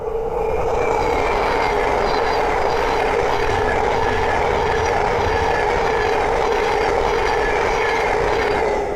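A Thameslink Class 700 electric train running from Horsham to Peterborough passes along the East Coast Main Line at Great Wymondley, a loud, sustained roar of wheels and rail with a steady tonal hum and faint clatter.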